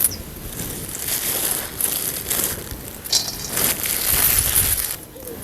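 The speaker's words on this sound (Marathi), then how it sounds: "तर आता लसूण पण चेचून घेऊया." Garlic is pounded in a mortar in a home kitchen, giving repeated rough crunching and grinding thumps close by in an uneven rhythm, with no voices.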